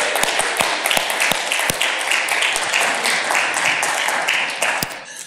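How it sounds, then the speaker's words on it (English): A crowd claps steadily for several seconds, dense and lively, with a few sharper individual claps standing out before it tapers off. "If we could have a round of applause for Stacy and Tammy who are going to join us"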